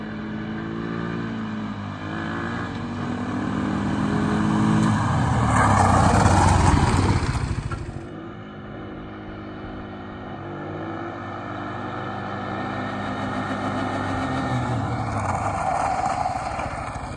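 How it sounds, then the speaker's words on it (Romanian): A KXD 200cc ATV with front and rear disc brakes, its engine droning and rising as it accelerates at medium speed, then dropping sharply as it brakes and settling into a steady idle-like hum. "Acum o să facem testul de frânare, să vedem cum se comportă și la o frânare la o viteză medie"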